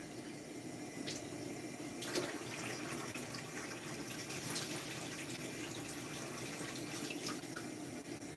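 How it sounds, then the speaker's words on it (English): Water pours steadily into a cooking pot holding potatoes and onions, a continuous faint splashing gush lasting several seconds with no talking. "And then I'm going to add some water to it."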